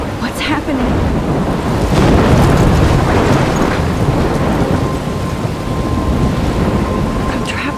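Thunderstorm with heavy rain in the video game Life is Strange, a dense continuous roar of downpour with rumbling thunder swelling loudly near the start and fading, close and enveloping.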